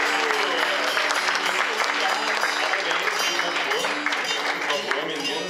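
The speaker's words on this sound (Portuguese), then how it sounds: "Uma salva de palmas para você." An audience at a tourism and environmental education seminar applauds a teacher's song with steady, full clapping that fills the whole stretch, a faint murmur of voices beneath it.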